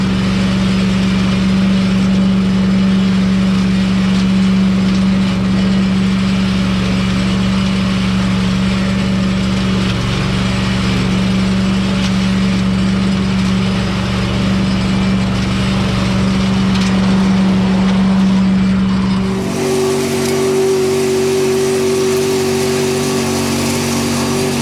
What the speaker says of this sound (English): This is the 18 horsepower unit, Little Wonder.